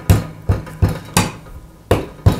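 A hammer smashes French press coffee beans with six sharp, loud blows at uneven intervals, each a close thud with a brief ring, and no talk.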